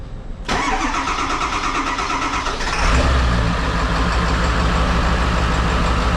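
A Ford 7.3 Powerstroke diesel in a rat rod build cranks briefly, then catches and fires up into a loud, rough idle that grows heavier and keeps running, close and alone.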